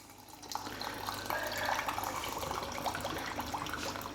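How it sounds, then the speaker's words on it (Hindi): Water being poured into mango juice in a kitchen: a steady, quiet splashing trickle that runs continuously without pause, close by, with no talking. "पानी डाल रहे हैं।"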